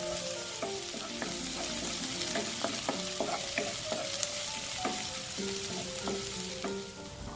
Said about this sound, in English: You next fry the pounded ingredients until they turn fragrant.